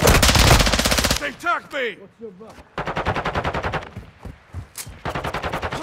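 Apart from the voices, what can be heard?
gunfire in a shooter video game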